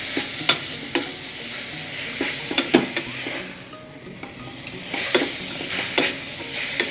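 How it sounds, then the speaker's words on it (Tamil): Grated carrot for sambal sizzles in a pan while a spatula stirs and scrapes it in irregular bursts, with clinks against the pan, close up and with no talking. "நல்லா வதங்கின ஒரு 5 நிமிஷம் நீங்கள் வதக்கிக்க பார்க்கணும்."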